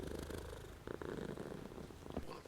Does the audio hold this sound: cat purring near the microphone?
yes